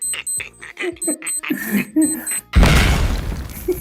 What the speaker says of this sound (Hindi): उधर एक बच्चे की घड़ी का अलार्म बज गया और वो बजता भी बॉम्ब के टाइमर जैसा है